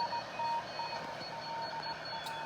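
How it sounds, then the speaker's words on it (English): Morse code from amateur radio operators on the 20 meter band, heard through a WW-2 military spy radio receiver: faint on-off beeping tones of uneven length over a steady hiss, with no speech. "You can hear some amateur operators sending Morse code there."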